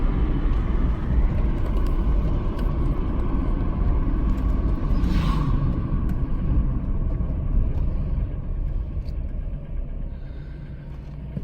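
A 1993 Dodge Caravan minivan with a five-speed manual gearbox drives along, its steady engine drone and road rumble filling the cabin at an even level that eases slightly toward the end.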